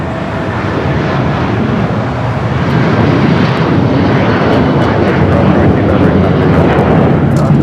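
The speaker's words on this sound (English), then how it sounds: "The A319 coming in from San Antonio, flight" An Airbus A319 jet arriving at LAX from San Antonio gives a loud, steady broadband engine roar that swells slightly and holds close and constant throughout.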